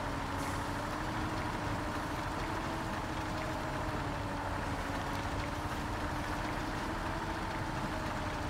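A heavy truck engine in Spintires MudRunner drones steadily with a low rumble and faint whine, holding a constant loud level throughout without clear rising revs.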